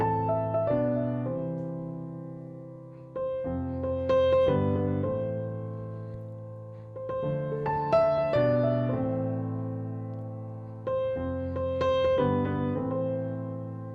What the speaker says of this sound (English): I'll teach you how to play the intro to this tune, which sounds like this.